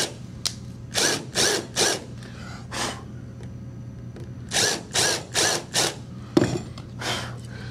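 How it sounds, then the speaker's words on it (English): A countersink bit in a power drill bores screw recesses into a wooden board, giving short whirring bursts in quick groups with pauses between, close and fairly loud against a low steady hum. "we take our countersink and we just make tiny little recessions into the face of the board"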